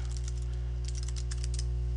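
Keystrokes on a computer keyboard typing commands into a Linux terminal, a quick run of close, crisp clicks over a steady low electrical hum.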